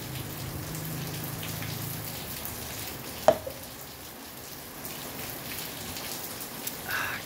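Rain falling steadily during a thunderstorm, a soft continuous hiss of drops with one sharp knock partway through and a brief low hum near the start.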